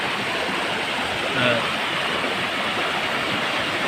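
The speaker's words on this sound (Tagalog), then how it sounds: "Dito kami sa malaking sapa." A large stream flows in a steady, broad rushing wash, loud and continuous throughout, with a brief faint tonal blip near the middle and no clear talk.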